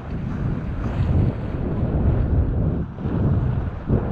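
Steady wind buffets the microphone aboard a sailboat at sea, a continuous loud rush with low rumble and faint water wash, swelling and dipping briefly throughout without any talk.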